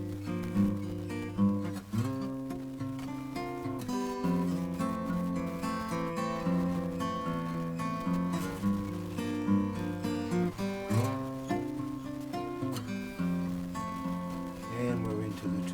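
Acoustic guitar fingerpicking the chord pattern of a song, a steady rolling arpeggio with changing chords, fairly quiet and close, played alone without any voice.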